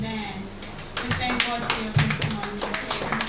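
A church congregation claps hands in a dense, irregular patter of many palms under loud talking, steady throughout at close range.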